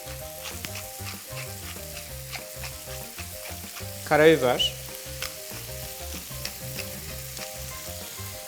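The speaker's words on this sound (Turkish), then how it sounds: "Incecik dilimlemiş olduğumuz bonfileleri kızartıyoruz" Thin-sliced beef tenderloin sizzles steadily in a hot pan, a constant crackling fry, with one brief clatter of stirring and a few words spoken over it.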